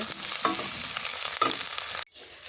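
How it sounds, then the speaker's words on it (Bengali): Beef brain frying in a pan, a steady close sizzle with a couple of stirring scrapes, cutting off abruptly near the end; no talking. "এটা আমি হচ্ছে একটু লাল লাল করে ভাজবো বেশি লাল করব না হালকা ব্রাউন কালার করব"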